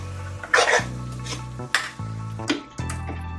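Chicken masala being sautéed in a pan: a few spatula scrapes and knocks against the metal over a soft sizzle, in short separate bursts.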